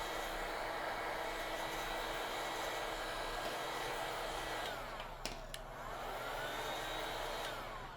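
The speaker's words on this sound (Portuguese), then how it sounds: "você vai pegar a sua pistola, você vai secar a placa" A heat gun dries a phone circuit board with a steady, loud blowing hiss that holds constant, broken briefly by a couple of small clicks partway through.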